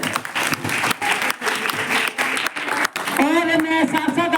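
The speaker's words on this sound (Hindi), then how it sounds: "तो आर्या जी के लिए एक बार तालियां बजा दें" An audience applauds a speaker at a Republic Day school celebration, dense, loud clapping from a crowd filling the moment before a voice rises over it near the end.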